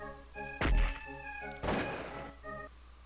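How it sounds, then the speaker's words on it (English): Pirate ship cannons fire in the Pirates Plunder video game: two heavy booming shots about a second apart, loud over a steady, tonal game music background. "Best thing to use is the cannon."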